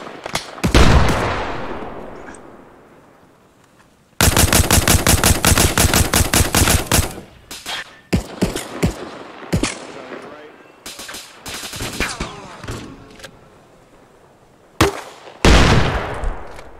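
Gunfire in the video game ARMA Reforger: loud single shots, a long sustained automatic burst, then scattered rapid shots and echoing reports, ending with another burst, with faint voices in between.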